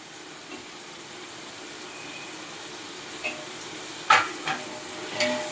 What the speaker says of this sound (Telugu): బాగా ఇదంతా కూడా బాగా నూనెలో మగ్గిపోవాలన్నమాట.